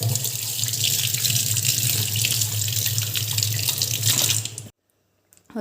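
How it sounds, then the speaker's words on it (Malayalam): A kitchen tap runs steadily at full flow while hands are washed during home cooking, a loud continuous splashing rush that cuts off abruptly near the end, followed by near silence. "ഞാൻ കൈ ഒന്ന് കഴുകട്ടെ"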